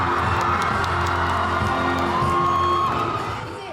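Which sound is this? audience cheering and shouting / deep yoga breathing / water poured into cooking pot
audience cheering and shouting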